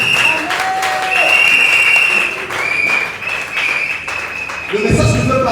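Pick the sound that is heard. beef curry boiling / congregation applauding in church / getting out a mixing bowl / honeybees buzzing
congregation applauding in church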